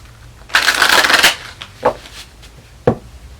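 Tarot cards riffled in one loud, fluttering shuffle, followed by a couple of soft taps as the deck is squared, close by.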